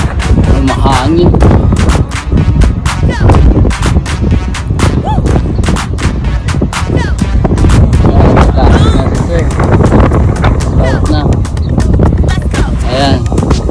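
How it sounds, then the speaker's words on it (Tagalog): Strong wind blows across a fishing boat at sea, buffeting the microphone in loud, irregular low-frequency bursts and gusts, with people talking under the roar. "Mahangin."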